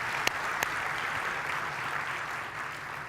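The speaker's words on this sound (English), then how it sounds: "so can we give our sponsors a round of applause?" Audience applause at a tech conference keynote for SharePoint professionals, a steady, fairly soft wash of clapping from a large crowd heard at some distance, with a couple of sharper claps standing out near the start.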